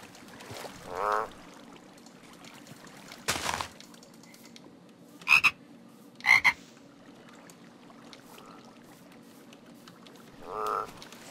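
Frogs croak in the game Minecraft Crazy Craft: a few short, separate croaks and clicks spaced across a quiet background, close and fairly clear.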